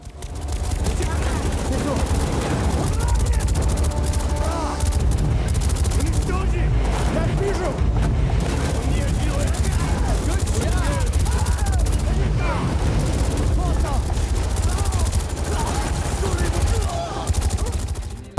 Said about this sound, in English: where you are having a gunfight with cool background music playing